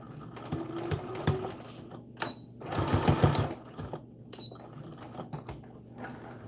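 Sewing machine stitching the side seam of a dress for an American Girl doll, running in several short bursts with pauses, the longest and loudest burst in the middle, close and clear with no talking.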